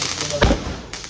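A single sharp firecracker bang bursts out during a Vishu celebration at home, a brief loud crack amid voices talking nearby.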